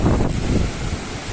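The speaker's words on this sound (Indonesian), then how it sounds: "Debur ombak di sore hari" Ocean waves wash onto a Bali beach at dusk, a close surging roar with a swell at the start and again at the end, buffeted by wind against the microphone.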